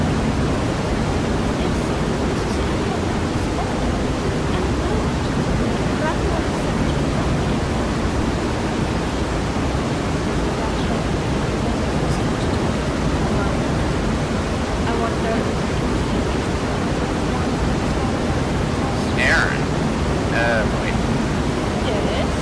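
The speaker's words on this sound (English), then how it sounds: "A several hundred foot tall waterfall would be a little deafening" A huge waterfall in the Skyrim video game roars loudly and continuously, a dense unbroken wash of falling water, with one brief high chirp near the end.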